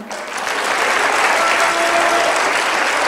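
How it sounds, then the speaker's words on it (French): A packed theatre audience at the Coupole in Saint-Louis breaks into loud, sustained applause that swells quickly and stays full and even, with no speech over it. "Sous vos applaudissements."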